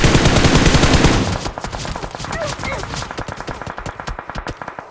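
Rapid Uzi submachine gun fire in the mobile game PUBG Mobile, a loud dense burst followed by a sustained stream of quick, evenly spaced shots that fade slightly but keep a steady rattling rhythm.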